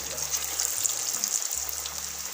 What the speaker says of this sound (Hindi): बड़े प्यार से, मोहब्बत से मछली को फ्राई करेंगे।